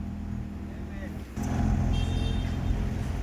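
Lorry driving past on a road at night, a low engine rumble that swells and stays loud after the first second, heard from inside a moving vehicle with a voice talking over it.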